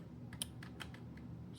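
Several quick keystrokes on a computer keyboard as a Raspberry Pi terminal command is typed, irregular clicks close by over a low steady hum.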